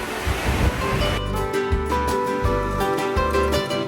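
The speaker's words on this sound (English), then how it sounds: "It's like the windiest place ever on Oahu." Strong gusting wind roars at the Pali Lookout on Oahu, a loud continuous rush buffeting the microphone with surging low rumbles throughout, and no voices are heard.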